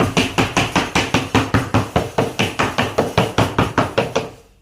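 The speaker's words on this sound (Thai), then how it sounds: "ไล่อากาศมีสองวิธีนะครับวิธีแรกคือเคาะ" Laminate sheet being knocked to push out trapped air, about twenty evenly spaced, sharp wooden knocks in a quick steady rhythm, close and loud, ending with a fading tail.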